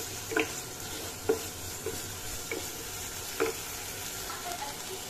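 Potatoes and bora hitting a hot pan, a steady soft sizzle of frying with a few sharp crackles and stirring clinks along the way, no voices.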